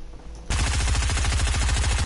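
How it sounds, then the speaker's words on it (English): A submachine gun in Fortnite opens fire abruptly and keeps going in a rapid, unbroken automatic burst, loud and close, with no talking over it. "Submachine gun."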